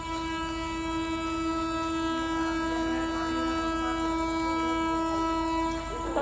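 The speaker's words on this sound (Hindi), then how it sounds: "तो ट्रेन आ रही है सामने से भी और उस साइड पे भी आ रही है।" At Viramgam Junction, trains approach from both directions. A long, loud, sustained horn holds a steady tone over the constant rumble of rolling rail cars, heard close and continuous throughout.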